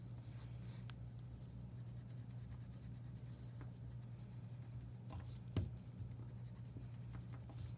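A pencil scratching and sketching eyes on paper, soft continuous strokes close by and quiet, with a low steady hum underneath and no talking.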